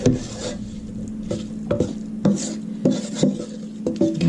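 A spoon clatters and scrapes in a bowl as dried breadcrumbs are mixed into chopped vegetables for turkey stuffing, giving irregular knocks and soft rustling strokes close by.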